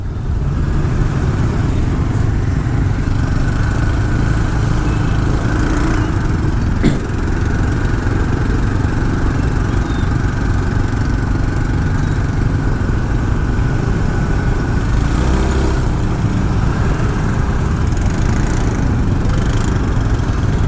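A long motorbike traffic jam in Canggu, Bali, with many scooters, including Vespas, idling and revving close by as a continuous loud engine drone, with occasional horn-like peaks and no talk.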